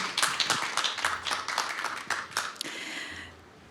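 An audience at a talk on fashion changing the world gives a final round of applause for the day's last speaker, steady close clapping that thins out and fades near the end.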